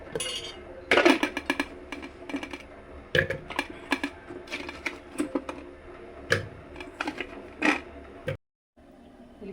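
Vegetable pieces drop into a pressure cooker for kalan, a run of sharp clinks and knocks against the metal pot, close and irregular, ending with a brief pause.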